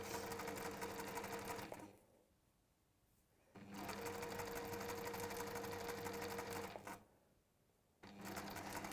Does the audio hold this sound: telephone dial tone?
no